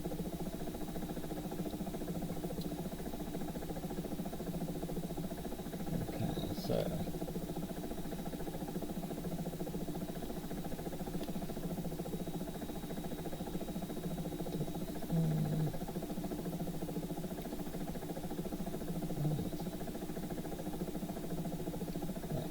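Light aircraft engine droning steadily in slow, low flight at about 90 knots and 800 feet, a constant even hum at moderate level with no clear changes, and a voice talking faintly over it.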